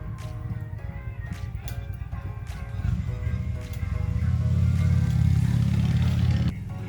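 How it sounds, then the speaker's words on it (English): A motorcycle rides past on a street. A low engine rumble builds to its loudest near the end and then cuts off, with faint chirps above it. "Let that motorcyclist drive by"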